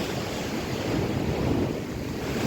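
Sea waves washing onto a shore in Cyprus with steady wind buffeting the microphone, a continuous broadband roar with gentle swells in loudness and no talking.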